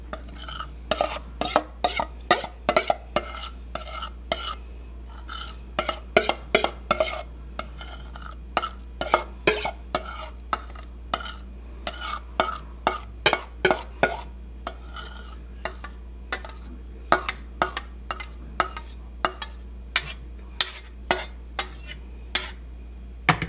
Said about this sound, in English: I'm going to scrape off my spoon here